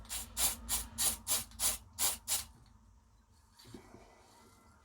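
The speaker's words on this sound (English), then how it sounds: "Spraying directly onto the brush helps as well" A rapid series of about eight short hissing sprays from a pump bottle onto a brush, evenly spaced, followed by faint soft rubbing.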